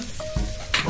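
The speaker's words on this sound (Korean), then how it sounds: "끓는다 이거" Ramen noodles boiling in a pot on a home stove, giving a short bubbling, hissing burst of close, loud boiling with a brief louder surge, no talk.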